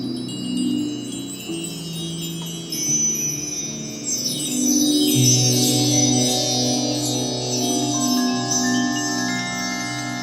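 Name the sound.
chimes played with mallets in a French TV song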